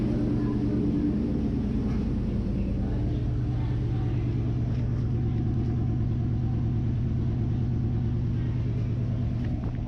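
Rebuilt engine of an abandoned 1969 Dodge Charger idling steadily, a loud, close, continuous low rumble with an even throbbing pulse throughout, no talk over it.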